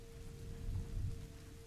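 Rain hisses steadily in the video game A Plague Tale, with a soft low thunder rumble swelling briefly in the middle; quiet and distant overall.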